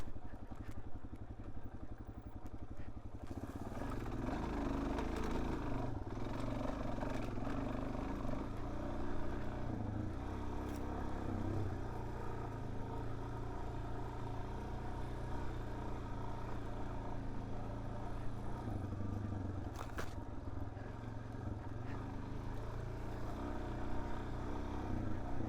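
A Suzuki DRZ 400S with stock gearing rolls downhill on a loose dirt trail. Its engine drones low and even, with faint rattles from the rough terrain and occasional brief knocks.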